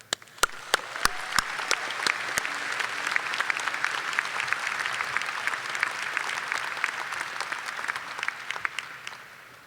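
Audience at a University of Hawaii Mānoa commencement applauding to welcome speaker Vivek Murthy, a few sharp nearby claps opening into a sustained, even wash of applause from a large crowd.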